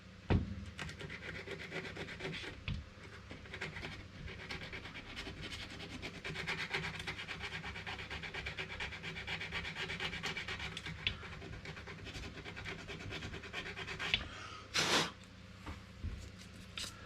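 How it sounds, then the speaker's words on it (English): Paint is rubbed off a radiator fitting on a Honda CBR600 F4 motorcycle, giving a close, rapid scratching and rubbing that continues in bursts, with a few louder knocks toward the end. "Just going to rub the paint off that little bit there because that needs to be an earth point."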